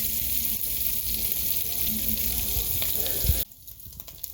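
Sausage and tasso browning in a pan give off a steady, dense sizzle that runs close and loud, then drops away suddenly near the end, leaving quieter clatter.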